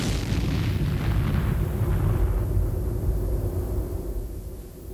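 A deep, sustained roar of V2 rocket explosions, broad and rumbling, slowly fading toward the end.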